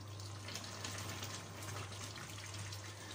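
Water gushes steadily from a tap into a pot of stewed chicken and potatoes, a continuous close, moderately loud pour with no talking.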